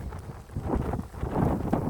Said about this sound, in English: It's raining and it's beautiful, but boy, it's windy, raining.